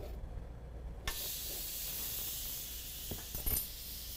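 Meat laid fat cap down in a hot grill pan, giving a sudden loud sizzle that settles into a steady, continuous hiss with a few small spattering pops near the end.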